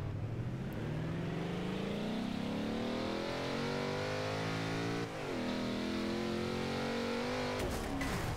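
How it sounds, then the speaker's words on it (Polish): A 1995 Corvette ZR1 engine in Forza Horizon 2 revs continuously, pitch climbing and dropping through gear shifts, loud and close with no talking. "Na dźwięk auta."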